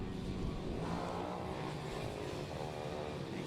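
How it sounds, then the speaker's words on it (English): Minibike 140 race engines during heat racing at Redlodge in the British Mini Bike championship, a dense, steady buzzing drone of several small engines charging into the first corner, loud and continuous with no talk. "Another good start there from Dean Quincy, but the 84 getting down the inside, charging into that first corner"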